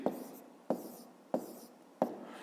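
A pen writes numbers by hand on paper in four short strokes, spaced evenly and heard up close, each starting with a scratchy tap and fading quickly.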